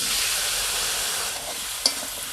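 Potatoes tossed into hot oil seasoned with black cumin and bay leaf, making a loud, continuous close sizzle with one brief clink partway through.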